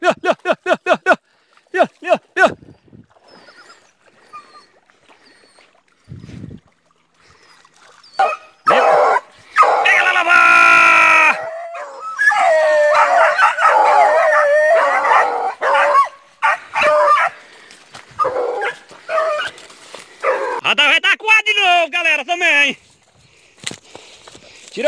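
A pack of hunting dogs barks and yips excitedly in overlapping bursts during a paca hunt near water, some whining, mixed with people shouting and talking outdoors.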